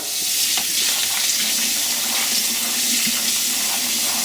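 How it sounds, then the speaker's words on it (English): Strong tap water gushes into a sink as chickpeas and a bowl are rinsed, a loud, close, unbroken rushing stream with faint clinks underneath. "we're going to rinse our bowl out."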